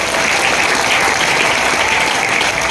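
Audience applause fills a business plan presentation hall in Kandivali, a steady dense wash of clapping that holds evenly at full level throughout with no voices on top.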